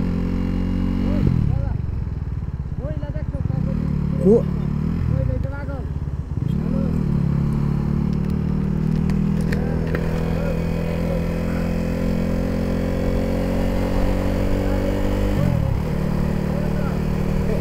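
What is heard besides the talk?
KTM RC 390 motorcycle being ridden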